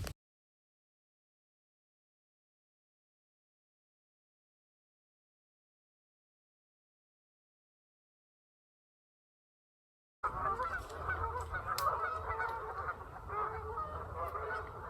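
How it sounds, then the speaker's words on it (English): After a long silence, a flock of geese at Trap Pond State Park, Delaware, suddenly starts honking loudly, overlapping calls continuing as a noisy chorus to the end. "The geese are making a racket."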